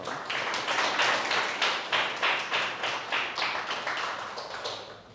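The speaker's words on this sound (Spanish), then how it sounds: "Dele un aplauso a Dios por eso." A church congregation claps along in a steady, even rhythm, roughly two claps per second, loud and close, with no talking over it.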